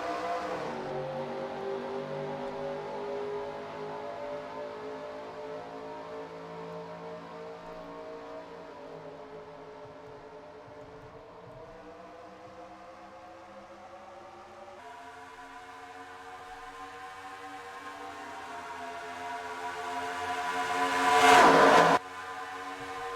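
Race cars in the NASCAR Racing 2003 video game accelerate at a green flag restart at Pocono. A pack of engines drones and rises steadily in pitch, then swells into a loud, harsh rush at the close.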